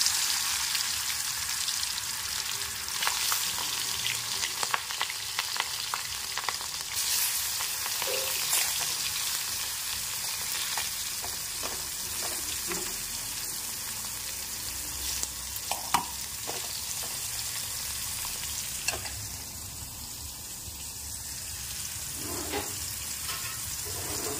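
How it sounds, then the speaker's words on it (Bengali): Bitter gourd slices fry in hot oil with a steady, crackling sizzle, dotted with occasional sharper pops and spatters, close and continuous with no talking. "তেল গরম হয়ে গেছে, এখন তেলের মধ্যে করলাগুলো ছেড়ে দিলাম"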